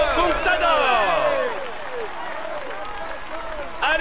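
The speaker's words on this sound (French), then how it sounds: "on l'applaudit bien fort" A crowd at the Tour de France applauds loudly while a voice talks over it in long, sweeping French tones; the clapping thins out toward the end.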